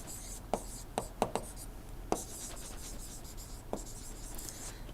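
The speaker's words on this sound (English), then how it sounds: "So, let me write." Chalk or marker writing on a board during an engineering thermodynamics lecture, heard as a handful of sharp taps and short strokes spread over a steady low room hum.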